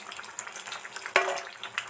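Ridge gourd bajji frying in hot oil, with a steady crackling sizzle and one sharp pop or clink midway, close and moderately loud.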